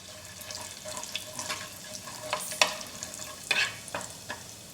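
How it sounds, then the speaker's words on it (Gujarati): Bay leaf, cinnamon, cloves and whole cumin frying in hot oil, giving a faint soft sizzle with sparse spoon stirs and a couple of sharper clinks, close by, with no talking. "તેલ થોડું ગરમ થઈ ગયું છે તો તેમાં તમાલપત્ર તજ અને લવિંગ ઉમેરીશું"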